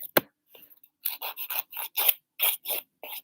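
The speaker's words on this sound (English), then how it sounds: "The key to filing is to have your hand very stiff" Rhythmic rasping strokes of a nail file or board across fingernails during a manicure, close and crisp, in short bursts with brief pauses.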